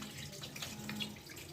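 Water runs steadily from a tap into rinsed rice and moong dal for ven pongal, a soft continuous splashing flow at moderate level, close by, with no talk.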